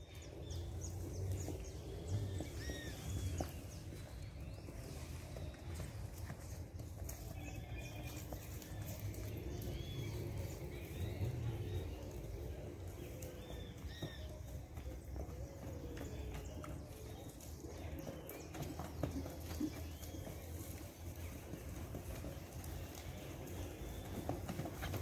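Steady clip-clop of a chestnut horse's hooves continues throughout, faint and somewhat distant, with birds and low background noise around it.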